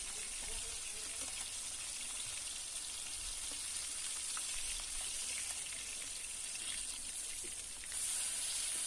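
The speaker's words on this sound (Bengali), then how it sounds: "মাছগুলোকে সোনালি করে এপিট ওপিট উল্টে ভালোভাবে ভেজে নিতে হবে।" Fish frying in oil in a pan while being turned over, giving a steady close crackling sizzle throughout, with faint clicks and a brief shift in tone near the end; no talking.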